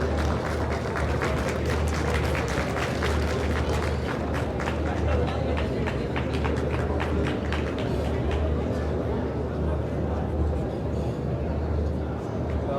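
Audience applause filling a seminar hall, dense continuous clapping lasting several seconds with crowd murmur mixed in, steady and moderately loud.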